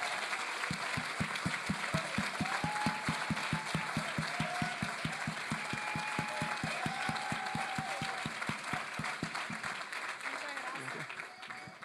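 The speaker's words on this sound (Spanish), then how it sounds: "quiero de verdad que le brinden un fuerte aplauso a Irene y a todo su equipo" A church congregation at a pastors' seminary gives strong applause for a ministry team, rapid even clapping held steady and full for several seconds before slowly thinning out at the end, with voices mixed in.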